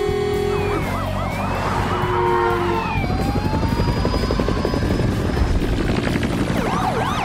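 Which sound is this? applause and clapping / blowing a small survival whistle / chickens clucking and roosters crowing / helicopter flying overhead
helicopter flying overhead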